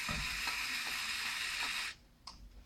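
A Lego robot mechanism driven by a rubber band spins a toy blender, giving a loud steady whirring rattle with faint clicks that cuts off abruptly near the end, followed by a single small click.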